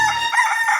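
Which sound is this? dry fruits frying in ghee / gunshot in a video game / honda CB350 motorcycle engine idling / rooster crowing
rooster crowing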